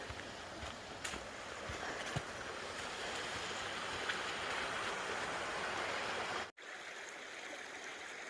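A creek rushes at a trail crossing near Devil's Bathtub in Virginia, a steady broadband water flow with a few light knocks, cutting out briefly near the end.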